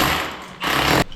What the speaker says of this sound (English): we're going to get his drill like that, aim towards the back, and this piece will cut off